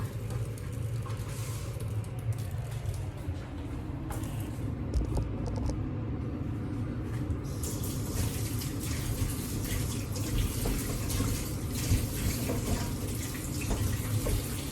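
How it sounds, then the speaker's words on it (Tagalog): Hot water running over meat being rinsed before cooking adobo, a continuous close splashing flow of water from a tap that turns brighter partway through. "Binanlian ko muna siya ng mainit na tubig"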